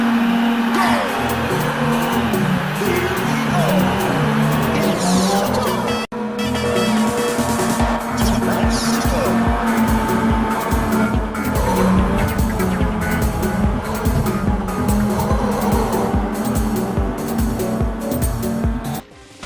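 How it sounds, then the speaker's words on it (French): Arcade car racing from the PlayStation game Ridge Racer Type 4: a loud, continuous engine whine with rising revs, tire squeals and a busy backing soundtrack that runs without a break. "Ridge Racer Type 4. C'est un jeu de voiture très typé arcade"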